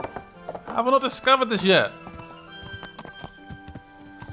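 Horse hooves clip-clop in the medieval game Kingdom Come Deliverance, a string of light, close taps at an uneven walking pace that follows someone speaking.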